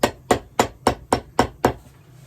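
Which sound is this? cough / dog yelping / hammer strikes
hammer strikes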